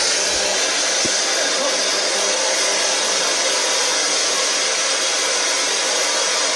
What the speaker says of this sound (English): I'm going to try and communicate with you through something called a spirit box. And it's very loud.